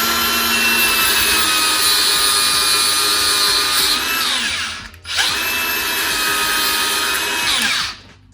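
A power cutting tool whines loudly as it slices through braided hose clamped in a vise for a car intake build, a steady close run of about four seconds, a brief drop, then a second long pass.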